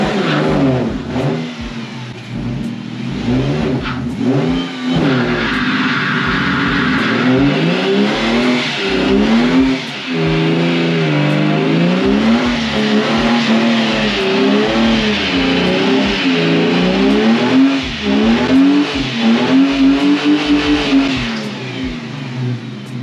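A manual Ford Falcon engine revs hard and accelerates on a test drive, loud and close, with rising and falling pitch through the gear changes and no talk over it.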